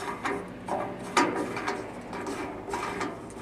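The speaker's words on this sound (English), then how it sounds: "It's a simple pin, pull a pin, spin the knob off" Hand-spun fender knob being unscrewed from a removable fender on a car hauler trailer, giving a series of soft mechanical clicks and scraping turns up close, with no talking.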